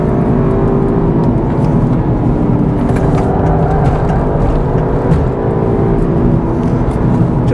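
A tuned Mk8 VW Golf GTI Clubsport drives hard around a race track, its engine holding a loud, continuous drone heard from inside the cabin, with no talking.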